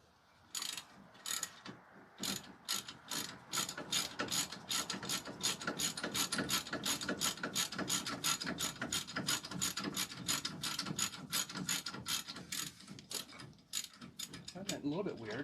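A hand ratchet loosens a nut with fast, regular clicking bursts, close and fairly loud, pausing briefly near the start and then running steadily with only slight gaps.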